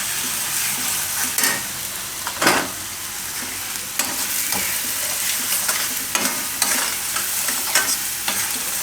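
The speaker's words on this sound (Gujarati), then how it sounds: "થોડીક વાર આમાં શેકી લેવાનું તેલ ભેગો ડુંગળી ભેગો મસાલા બધા." Onion, oil and spices such as coriander-cumin, turmeric and red chilli powder sizzle in a pan for paneer bhaji, with a spoon stirring and scraping in repeated strokes over a steady, close frying hiss.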